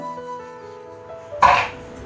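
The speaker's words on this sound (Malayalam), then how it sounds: "നല്ല ചുമ വന്നു" A single short cough bursts out near the end, following a few seconds of quiet tonal background sound.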